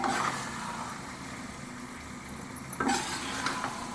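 Egg chukka frying in a pan over low flame is stirred with a utensil, giving a soft sizzle with scraping strokes at the start and again near the end, close and moderately quiet.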